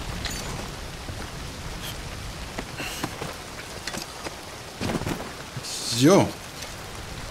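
Steady rain falls in the video game Red Dead Redemption 2, an even hiss of drops throughout with a few louder patters and a brief tonal sweep near the end; a voice speaks briefly.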